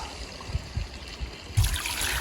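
Water trickling from a mineral water tap at an outdoor rest area with a gazebo and grill, a soft continuous splashing trickle that swells louder near the end.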